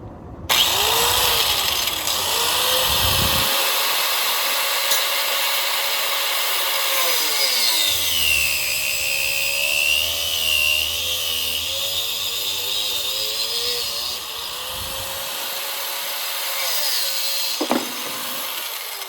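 Handsaw cutting through material during a transmission cooler install, with steady back-and-forth rasping strokes that run close and loud for most of the stretch before easing off near the end; no one speaks.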